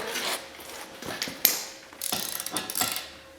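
A hand ratchet tightens bolts on rocker guards fitted to a 2023 Polaris Ranger 1000XP Crew, giving close, loud bursts of rapid clicking strokes with brief pauses between them.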